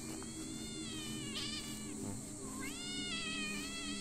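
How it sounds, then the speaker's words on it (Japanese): A cat meows in the Japanese horror game Shadow Corridor, with several drawn-out, wavering cries over a steady hum of crickets and insects, moderately close and with no talk. "猫どうした"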